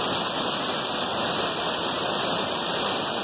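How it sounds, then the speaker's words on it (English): A steady, roaring overflow waterfall about 16 feet tall pours continuously at close range, a dense broadband rush of water with no pauses and no voices. "This is the overflow waterfall."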